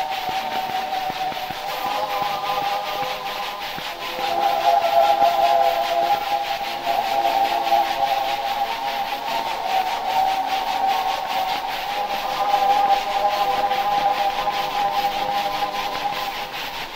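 Handel's Israel in Egypt sung by a massed choir of 4,000 singers in London, preserved as a very early cylinder recording; a faint sustained choral tone is buried under steady, loud hiss and crackle throughout.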